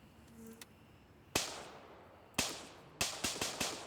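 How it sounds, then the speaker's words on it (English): Gunshots crack in Gray Zone Warfare, a handful of sharp reports: one, then another a second later, then a quick burst of three or four, fairly distant with echoing tails. "You already hear gunshots."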